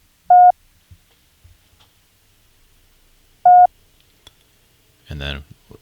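Morse code letter T played twice as a single dash beep, two isolated electronic tones a few seconds apart, followed near the end by a brief voice.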